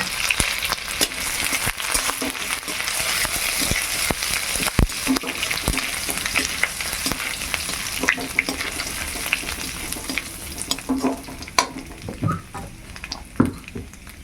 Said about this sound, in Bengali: আদাটা আর সরিষা ফোড়নটা ভাজা হয়ে গেছে